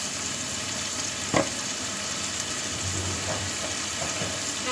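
Fried prawns crackle in a hot pan with oil, giving a steady, close sizzle broken by one sharp clank of a utensil, with no voices over it.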